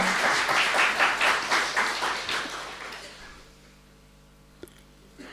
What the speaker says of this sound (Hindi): ताली बजा के अभिनंदन करें